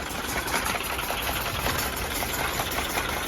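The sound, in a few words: tractor slasher running with PTO engaged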